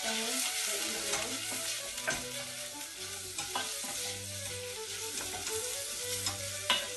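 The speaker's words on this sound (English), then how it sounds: "You saute the onions." Chopped onions sautéing in hot oil for okra soup, a steady sizzle and crackle broken by repeated scraping stir strokes, close and alone with no talk.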